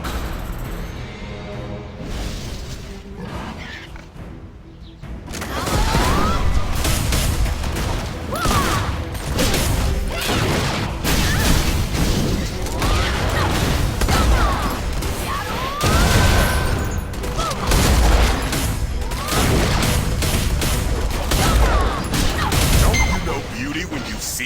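Dense, continuous rumbling barrage of explosions and crashing blasts from bombs going off in the fantasy video game Blade & Soul. The sound is loud and sustained, with voices or effects mixed in throughout.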